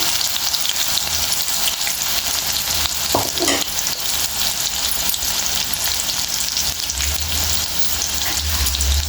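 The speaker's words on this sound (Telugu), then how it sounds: "ఇట్లా కొంచెం కొంచెం వేసుకొని ఇట్లా ఫ్రై చేసుకోవాలండి" Okra (lady finger) pieces coated in rice or gram flour and masala frying in hot oil, a dense, loud, continuous crackling sizzle with a brief stir or scrape midway and no voices.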